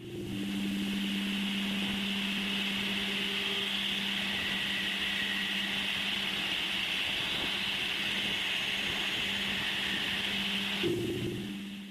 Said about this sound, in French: Et ça, c'est la musique de la magnétosphère uranienne.